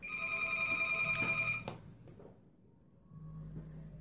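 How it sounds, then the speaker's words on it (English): A telephone rings close by with a bright electronic trill for about a second and a half, then cuts off into quiet room tone. "And of course the phone would ring."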